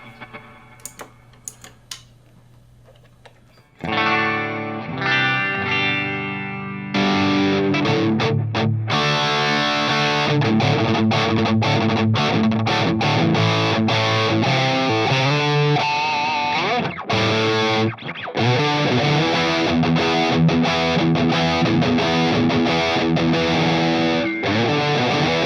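Distorted electric guitar, aiming for a PRS tone, played through Line 6 Helix LT effects. Quiet ticking and clicking give way to loud, sustained crunchy riffs and chords with brief stops.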